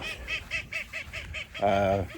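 Ducks on a farm call in a steady run of rhythmic nasal honks and quacks, about seven evenly spaced, then one longer, louder honk near at hand.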